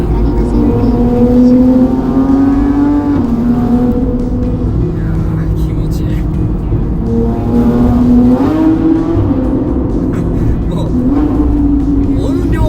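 A Porsche 911 GT3 engine echoes in a tunnel, revving up in repeated rising surges over a steady loud drone, with a person talking over the noise.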